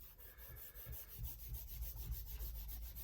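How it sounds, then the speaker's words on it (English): A thumb rubbing paper on an art journal page, a soft continuous scuffing with rhythmic back-and-forth strokes, close and quiet, no talking. "And I'm just rubbing with my thumb."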